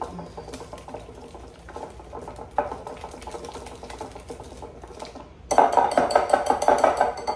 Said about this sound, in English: Just going to kind of whip that up a little bit